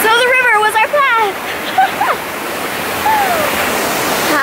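A jungle river in Costa Rica rushes steadily and loudly, a broad watery wash filling the scene while a person talks briefly over it at the start.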